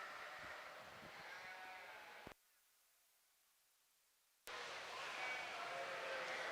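Sheep bleat and shuffle in a show ring at a junior breeding sheep show, with faint bleats under steady crowd and hall noise and a short silent gap in the middle.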